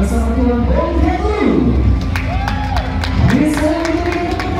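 Wedding guests break into applause and cheering while an MC talks loudly over the crowd, the clapping a busy, sustained wash under the voice.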